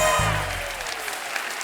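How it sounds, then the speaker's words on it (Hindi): A studio audience applauds on a TV comedy talk show, and the sustained clapping rises as a musical sting fades out beneath it. "एक बार हमारी टीवी क्वींस के लिए जोरदार तालियां हो जाएं।"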